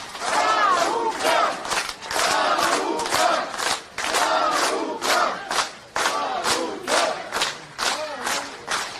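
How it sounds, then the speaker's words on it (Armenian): At an outdoor political rally in support of Gagik Tsarukyan, a large crowd claps and chants in loud, rhythmic bursts that rise and fall in waves, filling the whole stretch. "Ես ուզում եմ այս պահին բոլորս մի հատ շատ բարձր ծափահարենք"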